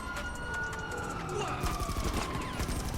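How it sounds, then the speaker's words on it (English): Rapid bursts of gunfire in GTA Online during a fight with police, sirens wailing underneath, dense and continuous throughout. "As you can see, I'm missing my shots a little bit, but aim assist is helping a lot."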